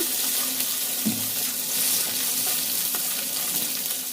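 Cubed potatoes and peanuts fry in hot soybean oil for a hotel-style singara filling, giving a steady, close sizzle that holds at an even level throughout.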